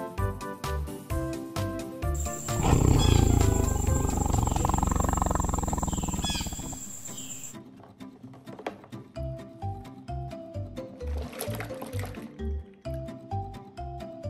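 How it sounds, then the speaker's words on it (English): A tiger lets out a long, loud, deep roar that rises and trails off, set against a steady rhythmic music backing track with a thumping beat. "Tiger."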